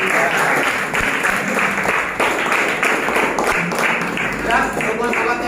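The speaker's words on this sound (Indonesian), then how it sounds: "tepuk tangan untuk kelompok 3" Classroom applause for a student group after a presentation, a dense spread of claps throughout with voices in the room mixed in.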